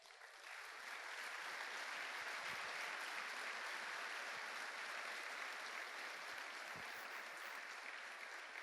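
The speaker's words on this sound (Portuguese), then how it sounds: "Ô irmão, você pode aplaudir o Senhor?" A church congregation applauds during a sermon, a steady wash of clapping from many hands rising quickly and holding at an even level throughout, fairly distant and with no voices over it.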